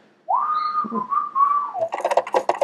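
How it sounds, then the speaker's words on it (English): A person whistles a short, sustained tune close by, a clear steady tone with small bends, followed by a few quick breathy sounds. "Sometimes I whistle"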